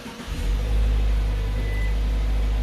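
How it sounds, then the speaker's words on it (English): A 2020 Subaru Ascent engine, started by remote starter, turns over and settles into a steady low idle, close by, with no one speaking. "In a few seconds the car will start."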